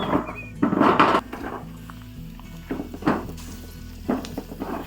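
Cashew fruit roasting on a hot metal sheet over an open fire, giving soft crackling sizzle and patter in a few bursts, loudest near the start, with quieter pops between.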